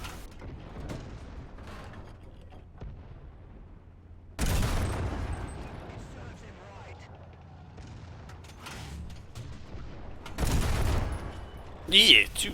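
Tank gun of an M18 Hellcat firing in War Thunder, two heavy booming shots spaced several seconds apart with rumbling tails, over low engine noise and a closing metallic clatter.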